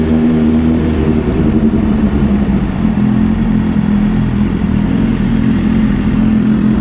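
A motorcycle rides along a road, its engine a loud, steady droning rumble mixed with wind buffeting, with no breaks throughout.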